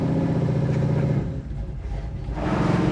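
A 1972 Chevrolet Nova SS muscle car engine rumbles steadily up close with a deep, throaty idle, dipping briefly midway before the revs swell again, with no talking over it.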